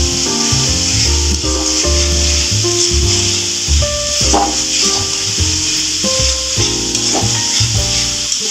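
Spices fry and get stirred in a pan for a Bengali dish, a steady hiss of sizzling running under prominent background music, with no talking.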